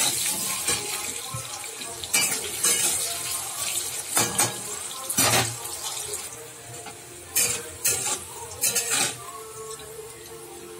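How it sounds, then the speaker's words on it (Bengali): Potatoes sizzling in hot oil in a pan, a soft continuous fry broken by several sharp scraping stirs and clatters, with no one talking. "আলুটা ভাজা হয়ে গেছে, তুলে নেব।"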